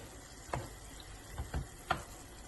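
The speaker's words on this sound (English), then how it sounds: "So I'm mixing it all up." Octopus stew ingredients are stirred in a pot, a handful of soft, brief knocks and scrapes spaced out over a quiet background.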